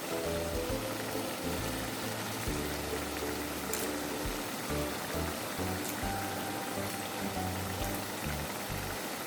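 Green sambal stir-fries in a pan with bay leaves and kaffir lime leaves, giving a continuous, even sizzle and crackle that runs without pause at moderate loudness.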